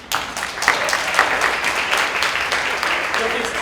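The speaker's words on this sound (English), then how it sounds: "I need a round of applause for Lindsay." An audience at a literacy event's closing remarks claps steadily and fairly loud through the whole stretch, a continuous wash of hands with no pause.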